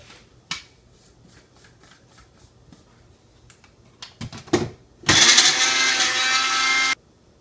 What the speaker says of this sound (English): blend about a fourth of a cup of turmeric into a powder